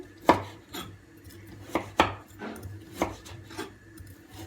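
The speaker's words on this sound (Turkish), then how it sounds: "Şöyle Sümeyye'nin etlerini de doğrayayım." A knife chops partly frozen meat on a cutting board at home, giving several sharp, separate knocks at an uneven pace, close and clear over a quiet kitchen background.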